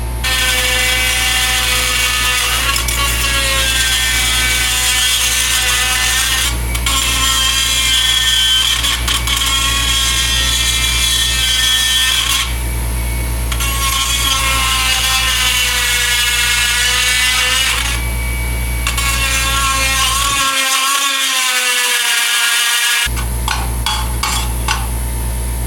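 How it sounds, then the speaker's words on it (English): An air compressor runs steadily and loudly almost throughout, a continuous droning hum with a brief break near the end, heard alone in a workshop while a car project is being put back together. "Excuse the compressor"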